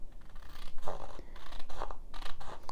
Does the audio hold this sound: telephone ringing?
no